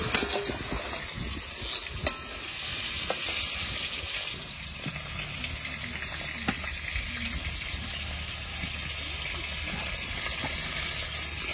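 Cut vegetables frying in oil left over from frying pond fish, a continuous close sizzle with occasional louder pops and clicks of stirring, steady throughout without talk.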